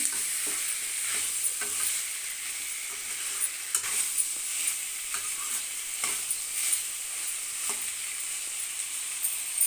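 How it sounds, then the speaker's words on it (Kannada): Chicken with pepper and spices frying in oil, a continuous crackling sizzle close by with repeated scraping stirs of a spoon in the pan, no voices. "ಎಣ್ಣೆಲಿ ಚೆನ್ನಾಗಿ ಫ್ರೈ ಆಗಲಿ."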